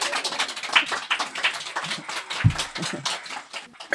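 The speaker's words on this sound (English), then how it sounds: "You can clap again if you like" A small audience at a Buddhist talk claps in scattered, uneven bursts, moderately close, with irregular hand claps and a louder thump partway through.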